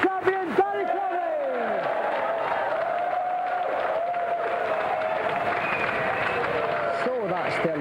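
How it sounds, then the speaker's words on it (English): A studio audience at a video game show breaks into sustained applause and clapping for the European Sega champion, steady and dense throughout, with brief cheers and voices at the start and end. "a round of applause for the European Sega champion, Danny Curry"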